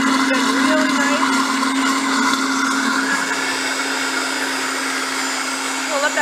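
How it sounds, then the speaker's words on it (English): A Vitamix blender runs steadily at high speed, cooking a vegan Alfredo sauce: a loud, continuous motor whine with a strong steady hum and a faint churning texture throughout, with no speech. "The really cool thing about having a Vitamix is that the longer that you let it go in there, it actually starts to warm up and cook your food."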